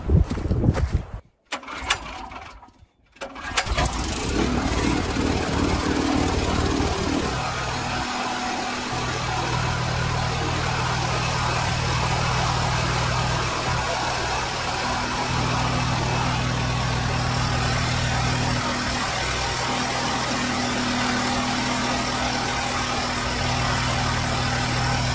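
A generator engine runs in a root cellar dig setting, steady mid-pitched engine hum continuing at moderate loudness after a few sharp knocks and clatters at the start.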